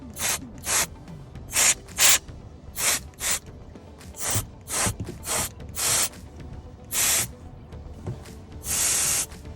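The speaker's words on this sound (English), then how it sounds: "You got a little canned air. We're going to shoot it up there to get rid of some of the lint." Canned air sprays onto a Tesla camera to blow out lint, in a series of short, sharp hissing bursts with gaps between them. The last burst is a bit longer, and the spraying is close and alone.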